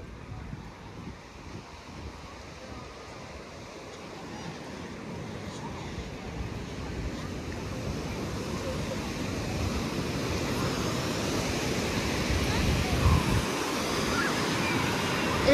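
Ocean surf at a beach at Avon-by-the-Sea builds into a steady, broad roar, with wind buffeting the microphone throughout.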